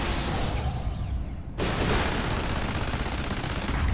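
Machine gun fire rattles continuously in Red Faction Armageddon, a dense, loud stream of rapid shots with explosive booms mixed in and a brief dip before the firing surges again.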